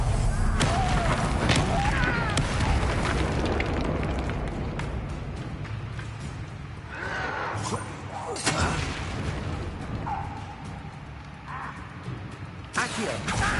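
Confringo blasting spell explosions in the Hogwarts Legacy video game, heavy booming blasts and crashing debris in a dense, loud combat mix with several distinct hits.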